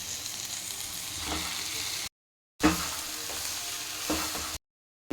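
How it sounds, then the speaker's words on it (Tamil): Cooked broccoli with coriander powder and chili powder fries in a pan, crackling and sizzling under scraping stirs. Two bursts of cooking noise are broken by brief silent gaps. "இப்போ நம்ம குக் பண்ணி எடுத்துக்கின இந்த ப்ரோக்கோலியை இதில் ஆட் பண்ணிக்கலாம்."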